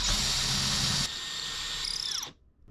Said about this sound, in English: So I'm going to begin by drilling a pilot hole through from this side